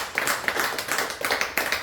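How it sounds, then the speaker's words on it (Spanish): Church congregation clapping hands together in a fast, steady rhythm, each clap crisp and evenly spaced over a continuous room murmur. "Dale palmas a Cristo fuerte."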